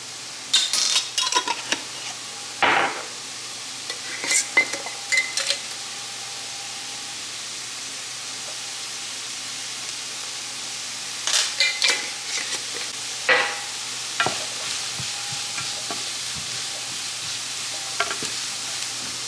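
Fried rice seasoned with salt and pepper, stirred and frying in a hot pan: bursts of utensil scraping and clatter over a steady sizzle, close, with a quieter stretch midway before the stirring resumes.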